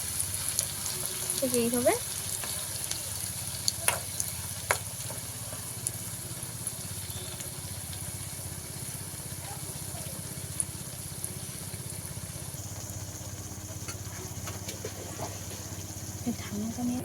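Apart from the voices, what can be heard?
ladle of semolina batter frying in a pan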